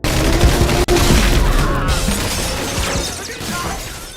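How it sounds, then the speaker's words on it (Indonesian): Gunfire rings out in a mafia action film shootout, a dense, loud barrage of cracking shots and crashing impacts that runs almost without pause. "hingga terjadilah baku tembak"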